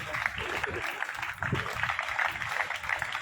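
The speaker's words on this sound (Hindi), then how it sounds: "तालियों की गड़गड़ाहट" An audience at a school ceremony honouring Olympic wrestlers claps steadily for several seconds, a dense continuous patter of many hands in a crowd.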